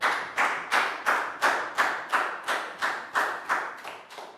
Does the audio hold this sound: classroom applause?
yes